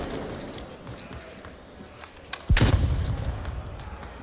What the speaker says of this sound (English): I'm hearing C4s